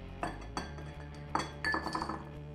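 A big ice cube is set into a highball glass for a smoked old fashioned, giving a few distinct close glassy clinks and knocks over about two seconds with no talking.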